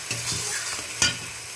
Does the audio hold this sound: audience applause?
no